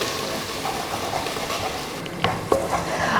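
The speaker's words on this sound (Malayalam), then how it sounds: "സവോള ഒരു ലൈറ്റ് ബ്രൗൺ ആവുന്ന വരെ നമുക്കൊന്ന് വഴറ്റി കൊടുക്കാം." Onion with ginger-garlic paste sautéing in a pan for vegetable kurma, a dense steady sizzle with stirring and a couple of spatula knocks near the end, close up without voices.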